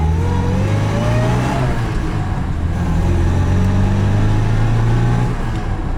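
Fiat 1100 R Wagon with a close-ratio gearbox, its small engine droning and pulling steadily as the car accelerates, pitch rising then settling in a continuous hum heard from inside the cabin.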